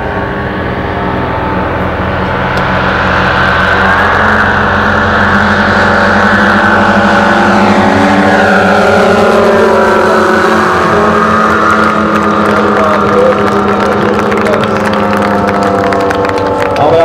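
Engines of a giant radio-controlled B-29 model plane at an airshow at La Ferté-Alais drone loudly and steadily, building in intensity with shifting tones, while faint talk lies underneath.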